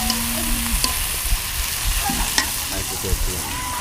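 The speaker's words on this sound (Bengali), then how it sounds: "সে এখন রান্না করতেছে কচুর থোর।" Banana stem stir-frying in a pan, an even sizzle with repeated close scrapes and stirring strokes, no talk over it.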